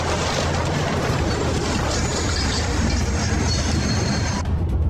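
A train rumbles steadily past up close, a loud continuous roar of wheels and carriages that cuts off abruptly near the end.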